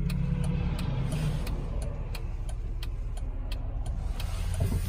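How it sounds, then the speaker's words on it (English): A 2011 Jeep Wrangler engine runs steadily while driving on a road at about 50, a low continuous rumble with faint regular ticking, moderately quiet and without talk. "I turned off the fans right now just so you could hear it run."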